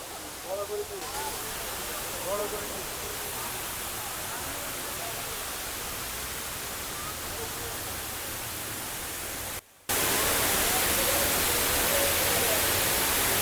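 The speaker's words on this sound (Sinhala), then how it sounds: "ඇත්තට මේක ආටිෆිෂල් වෝටර්ෆෝල් එකක්" Artificial waterfall at Khorfakkan fed by seawater pumped uphill, a constant dense roar of falling water filling the scene, briefly dropping out before returning louder.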